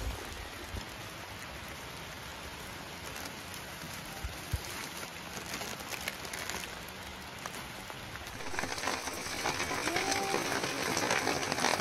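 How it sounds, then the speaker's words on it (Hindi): Heavy rain pours in the mountains as a dense, steady hiss that swells louder and harsher toward the end, with no voices over it. "चलो बारिश देखो कितनी भयंकर हो रही है।"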